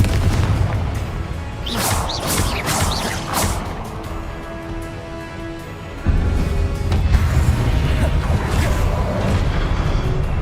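Magic blasts from Hogwarts Legacy combat, the Confringo explosive spell firing repeatedly: a dense run of loud booms, crashes and whooshes with no gaps, and a heavier low rumble swelling in partway through.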